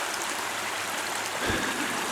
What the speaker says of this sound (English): Another one of the little river crossings that we come across, creek crossings